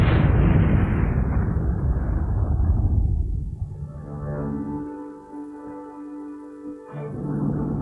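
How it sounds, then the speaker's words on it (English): The space shuttle's main rocket explodes as leaking fuel ignites, a loud, broad roaring blast that rumbles on for several seconds, then decays into a fainter, thinner tail with scattered crackles. "At the command throttle up, the fuel ignites, and the main rocket explodes."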